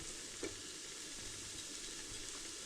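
Garlic sizzles steadily in a pan after softened leeks, a soft continuous frying hiss with a light stir or two and no talking.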